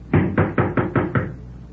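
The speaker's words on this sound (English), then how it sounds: "You going to knock?" Six firm knocks land on a door in even, quick succession, loud and close, as a sound effect in a radio drama, with no talking over them.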